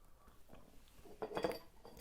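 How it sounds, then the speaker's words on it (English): Metal spoon stirring tea in a cup, a few soft clinks against the sides clustering near the end, close but quiet over a faint room hum. "I better stir my tea."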